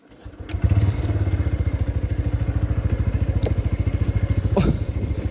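A motorcycle ridden off-road on a trip from Kathmandu toward Dhap Dam, its engine thumping loud and close in a fast, steady pulse with a few knocks and rattles.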